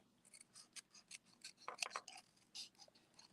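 Scissors snipping paper during fussy cutting of a stamped card-making sentiment, a quiet series of short crisp snips and rasps spaced irregularly, close and alone with no talk.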